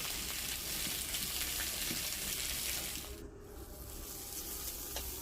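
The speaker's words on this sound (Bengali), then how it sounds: "তো কপিগুলো প্রথমে ভেজে নিচ্ছি" Cauliflower florets frying in a pan, giving a steady broadband hiss of hot oil that dips briefly and returns, with occasional faint clicks and no talking.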